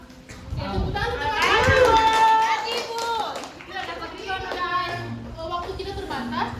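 Children clapping as applause in a classroom, a burst of hand claps building over the first seconds and tapering, mixed with children's voices and chatter throughout.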